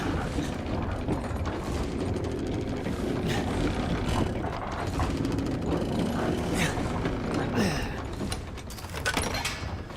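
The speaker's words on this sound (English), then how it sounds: "Yes, I can do this now with the old crank." A creaky old crank is turned in the horror game Resident Evil Village, its repeated ratcheting, grinding mechanical clicks running steadily for several seconds over a low, busy game ambience.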